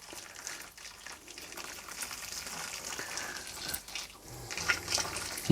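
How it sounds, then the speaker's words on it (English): Boiled hot water, about 2 litres, poured for home-brew draught: a steady broadband liquid rush that builds gradually and grows louder toward the end, with no voices over it. "pour my boiled hot water"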